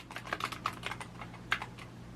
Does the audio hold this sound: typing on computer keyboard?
yes